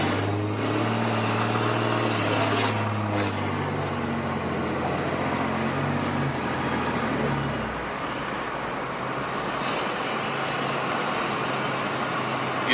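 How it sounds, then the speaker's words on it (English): A tuned 4th gen Cummins diesel in a dually pickup drones steadily, its engine tone dropping partway through, with a continuous road and exhaust rumble and no talking. "I'm listening to the engine, all that stuff."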